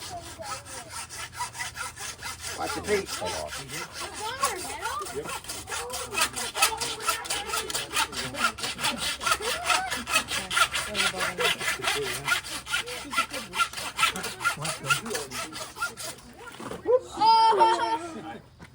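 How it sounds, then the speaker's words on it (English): Steady back-and-forth sawing through a pig carcass with a fast rhythmic rasp, close by, while people talk and laugh over it. "start sawing right in there"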